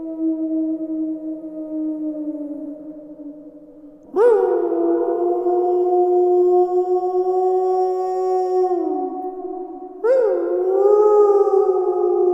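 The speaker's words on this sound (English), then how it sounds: "the anxious silence was broken by a howl" A close, loud howl from a werewolf or wolf in a horror setting, long sustained wailing tones that swell, hold and bend downward, then rise again in a second howl, alone in silence.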